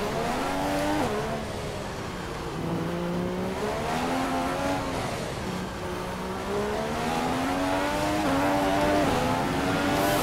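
An F1 race car in the F1 2015 video game at the Monaco Grand Prix on Xbox One revs continuously, its engine pitch rising and dipping with gear changes, loud and steady with no talk.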